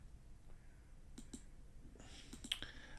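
Sharp computer mouse clicks while adding a new sprite, a pair near the middle and a quick cluster near the end, quiet and close over a faint low hum.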